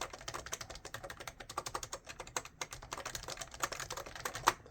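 Fast, steady typing on a BTC 5139 keyboard with BTC dome slider switches, a dense stream of clacky keystrokes at close range with one sharper strike near the end; no voices.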